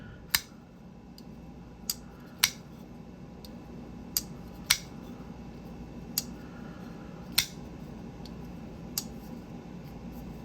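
An Artisan Cutlery Ahab folding knife opened and closed several times, producing crisp, isolated clicks and snaps spaced a second or two apart over a quiet room hum, with no talking.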